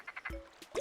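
A frog in Animal Crossing: City Folk croaks in a few quick, low bursts that end in a rising, watery gulp, heard up close without any voices.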